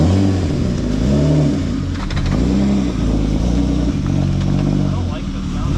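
Car engine with a slipping, delaminating eBay clutch revs hard and steadily, a loud, close droning whine that rises and falls over several seconds, with voices heard faintly beneath it.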